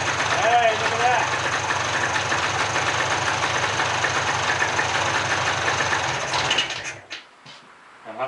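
A rebuilt small engine, pieced together from a pile of parts, idles with the throttle held open, a loud, close, rapid knocking run that cuts off abruptly near the end.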